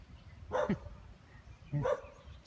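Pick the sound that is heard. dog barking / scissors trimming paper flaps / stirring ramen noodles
dog barking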